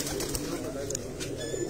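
Pigeons coo softly on a rooftop loft in a brief burst, with nearby talking going on over the low, murmuring calls.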